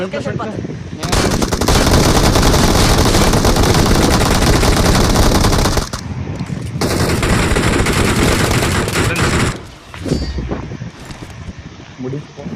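Bursts of automatic gunfire in PUBG Mobile, loud and close, firing in long rapid volleys with short pauses between them and a few metallic clangs near the end.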